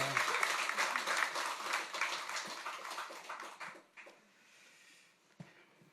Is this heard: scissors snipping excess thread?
no